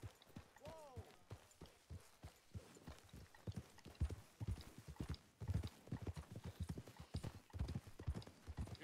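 Horse hooves clip-clopping in Red Dead Redemption 2, a steady run of close, regular beats, with a brief whinny early and a voice talking over the gallop.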